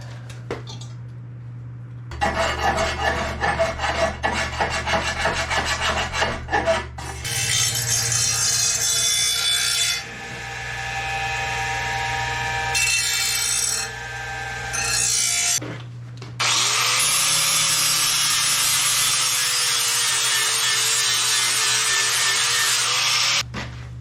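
Metal is ground for a 3 point hitch receiver in several long, loud rasping passes, with the pitch shifting between passes and brief pauses between them.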